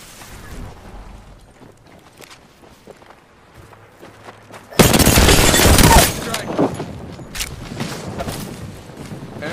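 Gunfire in the Apex Legends battle royale shooter erupts as a loud, dense burst of rapid shots after quieter footsteps and movement, then trails into scattered single shots.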